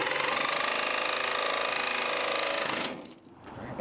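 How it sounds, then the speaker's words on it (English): A power saw cuts metal out of the wall of a Promaster van, a loud rapid buzzing reciprocating rattle that runs steadily, then stops abruptly, leaving a brief quieter tail. "So we'll cut those last and then take the take the metal out."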